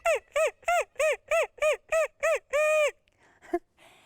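A handheld turkey call imitates turkey clucks: eight sharp, evenly spaced yelping notes followed by one longer drawn-out call, loud and close, with no talk.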